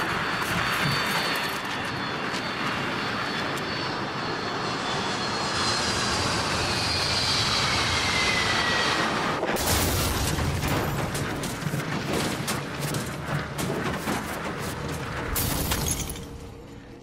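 An airplane going down in the survival game The Forest: a loud, steady aircraft engine roar with rising whine gives way to sudden violent crashing and tearing noise, then fades toward the end.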